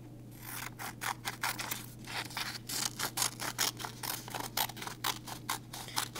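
Scissors snip repeatedly through folded paper while cutting a snowflake, a steady series of close, crisp cuts with brief pauses, no talking.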